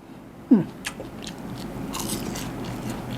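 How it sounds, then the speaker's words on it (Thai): A close, crisp crunch as someone bites into crispy fried salmon skin, followed by a few quieter chewing sounds. "กรอบนะครับหนังกรอบกรอบ"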